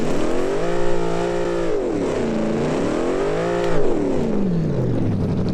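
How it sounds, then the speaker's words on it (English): A 900-horsepower dragster engine in the Automation car game revs hard during a burnout, loud and continuous, its pitch sweeping up and down through several surges with a brief louder burst near the end. "Let's do a burnout"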